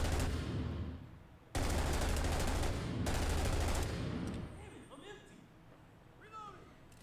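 Rapid bursts of gunfire at short range in the Six Days in Fallujah video game, loud sustained volleys with a brief gap before fading into quieter scattered sounds.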